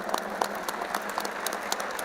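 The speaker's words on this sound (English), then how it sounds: "Give him a big clap." A conference audience at the World Interfaith Harmony Conference gives a round of applause for a guest, a fairly faint, even spread of clapping that carries on steadily without any voices.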